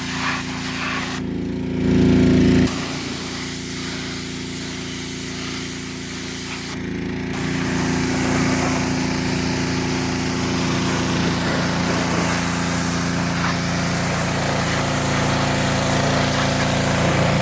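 Pressure washer spraying down a Gravely ZTX-52 zero-turn mower, a steady loud engine drone with hissing spray that briefly surges louder, continuous throughout with no talk.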